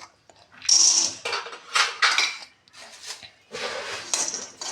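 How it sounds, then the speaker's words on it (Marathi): Peanuts are roasted in a pan for curry leaf chutney, with bursts of clattering and scraping as they are stirred, loud and close, separated by brief pauses. "आता नंतर आपण शेंगदाणे भाजून घेऊ।"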